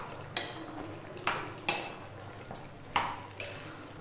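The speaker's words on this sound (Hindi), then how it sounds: "गुड़ को डाल के अच्छे से चला देना है।" A spoon stirs jaggery into cooked tomato chutney in a pan, giving about eight sharp metallic scrapes and clinks in a loose, regular rhythm, close and clear with no talking.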